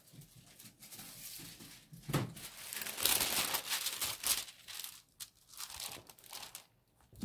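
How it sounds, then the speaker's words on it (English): Wax paper is pulled off a roll and crinkled close by, giving bursts of rustling and tearing that swell and fade in uneven waves with short pauses between them. "So I want to put down some wax paper."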